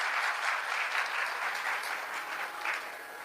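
Crowd applause during a Hindu devotional discourse, a broad continuous patter of many hands, moderately loud and steady, easing off slightly toward the end with no speech over it.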